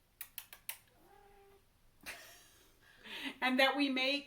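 A cat meows a few times close by, with brief tapping clicks at the start and a louder, drawn-out meowing cry toward the end.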